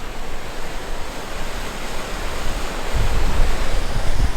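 Constant rushing noise of water running behind the partly frozen Sioux Falls waterfall in South Dakota, broad and steady with wind-like buffeting that grows louder toward the end, no talking.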